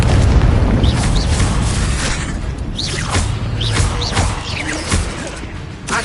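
Confringo blasting spell in Hogwarts Legacy, loud booming magical explosions with whooshing bursts, several impacts in quick succession over a rumbling game backdrop.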